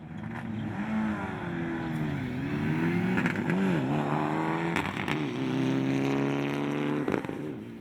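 A Nissan Micra rally car engine revs hard and steadily at a rally start on an airport stage, loud and close, with pitch rising and falling through gear changes and a few sharp knocks.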